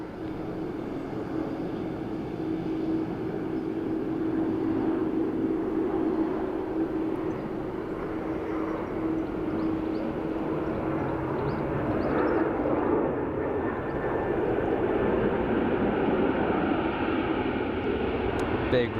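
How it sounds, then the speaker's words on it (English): A Ryanair airliner landing at Dublin Airport roars steadily with reverse thrust, a broad, loud engine rush that swells and holds for many seconds from a moderate distance, with a voice talking over it. "Big reverse thrust there of the Ryanair."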